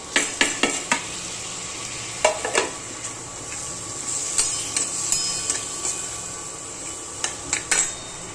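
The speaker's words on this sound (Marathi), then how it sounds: "आणि आता त्याच्यामध्ये टोमॅटो टाकते. बटाटे पण टाकते त्याच्यात." Tomatoes and potatoes drop into frying masala in a pan, followed by a spoon stirring and scraping against the metal, with a faint sizzle underneath and several sharp clinks across the stretch.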